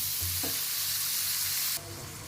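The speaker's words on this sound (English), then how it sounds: "I just added my tomatoes and my carrots, so I'll just mix them up" Tomatoes and carrots being stirred in a frying pan, a steady loud sizzle with scraping stir strokes, then the sound drops quieter near the end.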